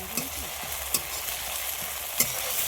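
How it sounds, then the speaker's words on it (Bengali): Spice paste is stirred into fish curry frying in a pan with Japanese puti fish: a low steady sizzle with a few soft scraping strokes and light clinks of the spoon against the pan. "এবার যে মশলাটা করে রেখেছিলাম ওটা দিয়ে দেব। দিয়ে সবগুলোকে একসাথে ভালো করে নেড়ে নেব।"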